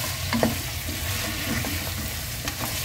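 Food frying in a pan while iftar dishes are cooked, with a steady close sizzle and occasional stirring scrapes, no talk.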